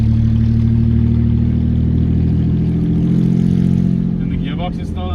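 A 1.4 Opel Corsa on street tires strains at full throttle with a loud, steady engine drone close by, the pitch holding high before tire and mechanical noise creeps in at the end.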